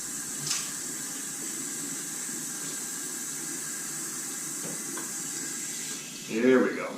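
A bathroom tap runs in a steady hissing stream while someone wets their face before shaving, and a short voice rises near the end.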